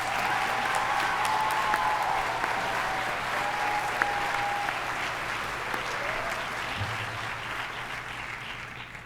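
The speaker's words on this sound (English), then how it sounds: "Let's do one more round of applause for everyone." A graduation ceremony audience applauds in a steady, dense wash of clapping that gradually fades toward the end, with faint voices mixed in.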